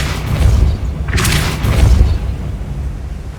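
A Depulso spell blast fires in the video game Hogwarts Legacy, a loud booming burst with a deep low thump and a brief bright crackle, rumbling on over steady game ambience.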